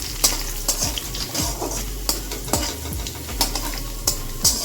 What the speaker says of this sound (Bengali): ভাজা হচ্ছে, আমি চাল কুমড়োটা আমি দিয়ে দিই।